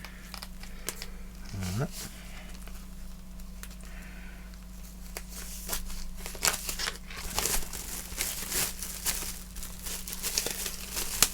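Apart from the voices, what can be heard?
unwrapping crinkling plastic from a vinyl record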